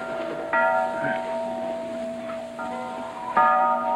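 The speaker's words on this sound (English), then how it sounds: "That bell, why does it ring so? It calls the sheep for fleecing." A bell rings to call the sheep for fleecing, sustained tolling tones with fresh strikes every few seconds, moderately distant over low background hum.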